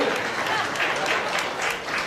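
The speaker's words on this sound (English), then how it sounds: "Give yourself a round of applause, man." An event audience at a foundation gala applauds steadily, a dense wash of many hands clapping at close-to-mid distance and holding the same level throughout.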